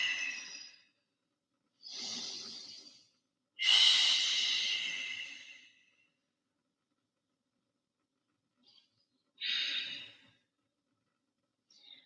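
Slow, deep full-body breathing during a guided yoga session: several long breaths, each a few seconds of airy inhale or exhale, with quiet pauses between, close and fairly soft.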